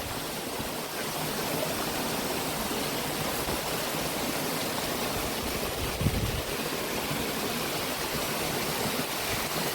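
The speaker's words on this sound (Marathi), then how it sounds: "आम्हाला पहिल्यांदा जाता छोटा धबधबा लागलेला आहे" A small waterfall gives off a steady, unbroken rush of falling water, loud and close, holding an even level from start to finish with no voices.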